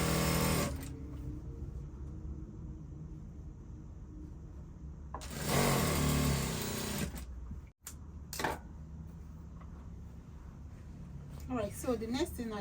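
A sewing machine stitching a twice-folded hem around a sleeve opening on a bubu dress, with a short whirring burst of stitching between stretches of quiet, while a person talks through much of the clip.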